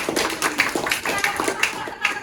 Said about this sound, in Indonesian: Jam, betul, kasih tepuk tangan.